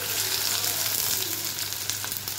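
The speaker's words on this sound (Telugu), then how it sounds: "డీప్ ఫ్రై కాదు, నేను షాలో ఫ్రై చేస్తున్నాను అనమాట." Yam pieces shallow frying in a pan of oil with curry leaves, a dense, continuous sizzle close by and fairly loud, alone without voices.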